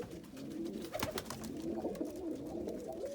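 Pet pigeons coo steadily from a nest in an aviary, soft low rounded calls repeating under a constant background hiss, with a brief sharper knock partway through.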